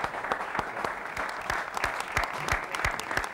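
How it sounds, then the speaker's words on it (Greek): Dense audience applause for the orchestra at a premiere concert, with a thick crowd of clapping punctuated by a few louder, rhythmic hand claps standing out near the listener. "Ένα χειροκρότημα στην ορχήστρα μας."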